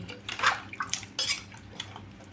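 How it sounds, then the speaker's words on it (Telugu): A metal spoon clinks and scrapes against a pot as green chilli pieces are mixed into Tamil Nadu style tiffin sambar, a few quick knocks close up with no voices. "ఇదిగోండి పచ్చిమిరపకాయ ముక్కలు ఇట్లా అన్నిట్లనైతే వేసుకొని ఒక్కసారి కలుపుకుందామండి"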